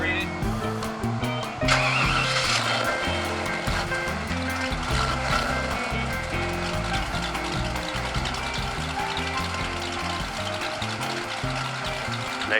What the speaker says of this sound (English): Nice sounding car.